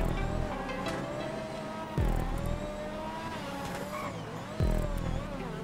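A Formula 1 car races in GTA 5 Online, driven with a steering wheel: a high, whining engine holds steady pitch, with sharp gear shifts and drops in pitch about every couple of seconds, close and loud, with no talking.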